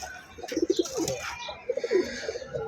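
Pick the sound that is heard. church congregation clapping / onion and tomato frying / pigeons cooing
pigeons cooing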